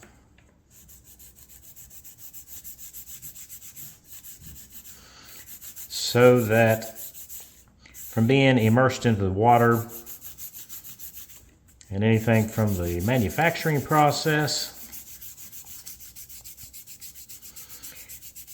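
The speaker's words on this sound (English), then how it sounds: "I'm going to take a fine sanding stick here and I'm going to clean this up." Soft, close rubbing strokes of a fine sanding stick on a wooden model boat hull in several short bursts, with quiet gaps between them, while a voice talks throughout.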